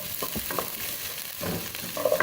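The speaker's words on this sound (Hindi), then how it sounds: "अब इसके साथ ही मैं इसमें प्याज डाल दूंगी" Onion cooking with garlic paste in a pan for homemade pizza sauce, a brief close sizzle with a few stirring scrapes and clicks of a spoon.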